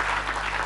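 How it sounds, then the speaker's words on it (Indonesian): A television game-show studio audience claps in a short, dense burst of applause, steady and fairly loud throughout, with no voices over it. "Tepuk tangan dong."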